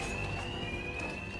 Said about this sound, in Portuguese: Duas caras cortou o alarme.